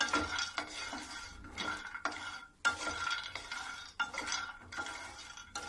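Almonds and cashews dry roasting in a pan over low heat, stirred with a spoon in repeated scraping strokes with light clinks against the metal, each pass separated by short pauses, close and moderately quiet.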